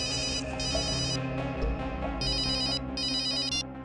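Telephone ringing in a crime drama scene: repeated electronic trilling rings in bursts with short gaps, fairly clear over a low background music bed.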